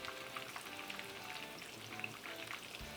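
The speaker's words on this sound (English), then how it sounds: "I'm going to go ahead and flip the eggplant" Quiet, steady sizzle and crackle of eggplant frying in a pan, small pops scattered through the low hiss, with a soft shift near the end as the pieces are turned.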